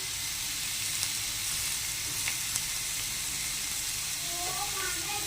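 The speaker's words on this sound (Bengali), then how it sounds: "এবার পেঁয়াজগুলো হালকা করে ভেজে নিয়েছি, এবার দিয়ে দেবো টমেটো কুচি।" Onions and chopped tomato frying in a pan give a steady, even sizzle that runs continuously throughout at moderate loudness, with a few faint clinks.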